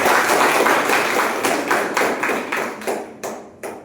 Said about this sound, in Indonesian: Kasih aplaus untuk Pak Gunawan